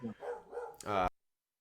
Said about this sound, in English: There's the wiener dog barking in the back.